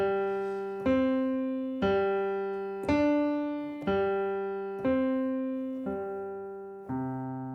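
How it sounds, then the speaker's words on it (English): Soft piano chords from a calm improvised pattern strike about once a second, eight times in a row, each ringing and decaying gently before the next, close and alone. "very soothing piano music."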